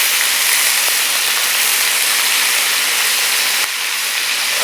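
Oxtails searing in a hot pan, a steady broadband sizzle and hiss that holds evenly throughout with a few faint low taps, dropping slightly near the end.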